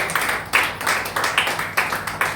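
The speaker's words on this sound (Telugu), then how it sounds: "ఇష్టం ఉన్న వాళ్ళు చప్పట్లు కొడుతున్నారు." A church congregation claps together in a steady rhythmic beat, about four claps per second, close and fairly loud with no talk over it.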